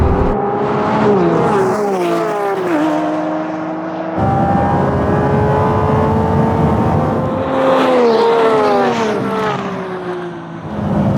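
A Lamborghini Revuelto V12 accelerates hard in a drag race, its engine note climbing loudly and dropping sharply at each rapid gear shift, then climbing again; no talking.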